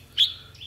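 White-breasted waterhen chicks give a single thin, high chirp, followed by a fainter trailing call, near and alone over a low background hum.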